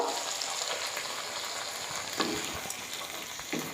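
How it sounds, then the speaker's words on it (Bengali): Spice paste of turmeric and ground spices mixed with water sizzles in leftover fish-frying oil while making rui fish curry, a steady close hiss with occasional sharper crackles and stirring scrapes, no talking. "এবার আমি মশলার পেস্ট দিয়ে দেব"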